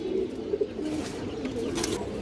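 A pair of green-necked pigeons with red eyes coos softly in a steady low murmur, a few slightly louder coos standing out against faint background noise.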